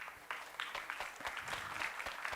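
An audience at a grand finale applauds the teams, a fairly faint, steady patter of many hands clapping with a few sharper individual claps.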